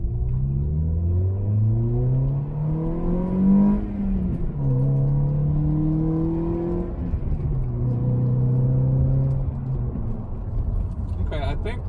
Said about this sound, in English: so let's give it a little bit of acceleration here.